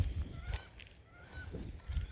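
Geese honk near a lake on an Iowa hike, a few loud nasal calls spaced across a couple of seconds over outdoor ambience.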